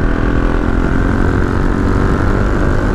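A KTM 690 Duke R single-cylinder motorcycle runs continuously with a dense, rumbling exhaust note and steady vibrating texture, loud and close throughout with no voices.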